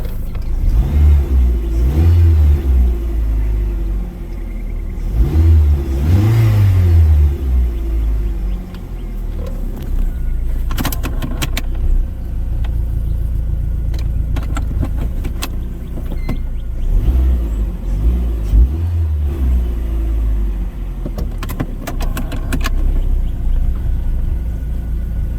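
A 2004 Dodge Neon SXT engine runs loud and steady nearby, rising in several revving bursts over a low continuous rumble, with no talking.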